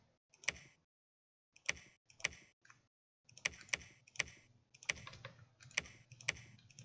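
Sharp computer mouse clicks come in scattered single and paired taps during a Dominions 5 strategy game, close and crisp in a quiet room, with short silences between bursts.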